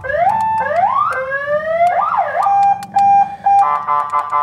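Loud custom musical horn fitted to a Chevrolet Onix car, blaring a sequence of rising, warbling siren-like tones followed by several short repeated blasts, close and alone with no talk.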